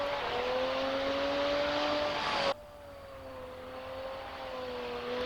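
Race car engine in the Assetto Corsa racing game at Croft circuit, a loud sustained drone holding a steady pitch that drops abruptly halfway through to a quieter, thinner tone, as after a gear change or lift off the throttle.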